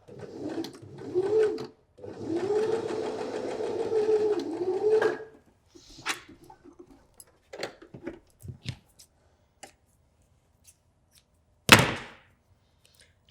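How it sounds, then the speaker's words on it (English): A sewing machine runs in two bursts of fast, whirring stitching along a drawn line on a toy's arm, then stops; scattered clicks and handling noises follow, ending with a sharp knock. "Pop it in the machine and stitch directly on that drawn line"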